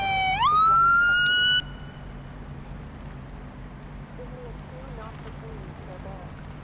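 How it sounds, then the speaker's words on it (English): A police car siren sounds up close and loud, sweeping upward into a sustained wail before cutting off abruptly after about a second and a half, leaving a low engine hum. "We're gonna go ahead and get our lights and siren on."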